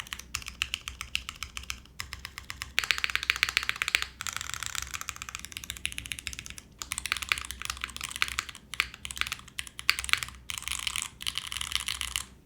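Rapid, close-up typing on an Event Horizon mechanical keyboard: dense runs of crisp keystrokes broken by brief pauses, with no voices.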